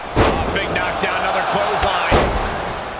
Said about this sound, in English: Big knockdown, another clothesline.